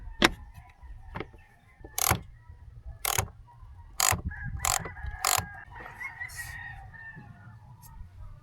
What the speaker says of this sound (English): we're gonna unscrew this one right here as well because we need to loosen up this little bracket or clamp right here